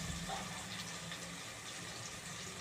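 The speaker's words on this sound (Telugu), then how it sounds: "కొన్ని వాటర్ పోయాలి ఫ్రెండ్స్." Water pours into a pan of ground masala paste over a medium flame while mirchi ka salan cooks, a faint, steady gushing wash with no voices.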